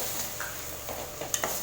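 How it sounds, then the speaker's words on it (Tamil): Tomatoes sauté in a pan for thalsa, giving a soft, continuous sizzle with a few light scrapes and clinks of a spoon stirring against the pan near the end. "அதை இதில் சேர்த்துட்டு தக்காளி பழத்தை நல்லா வதக்கி விட்டுக்கோங்க"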